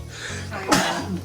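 A single sharp sneeze bursts out close by after a moment of quiet room noise, with a brief spoken phrase just before it.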